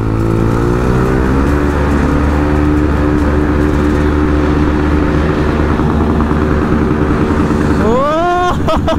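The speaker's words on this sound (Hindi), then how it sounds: "सबको एग्जॉस्ट साउंड सुनना है" Motorcycle exhausts roaring loud and close as a line of bikes rides past, a continuous heavy engine drone that swells into a rising rev near the end.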